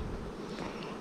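Honeybees hum steadily at an apiary hive during an inspection, a dense continuous buzz close by with no speech.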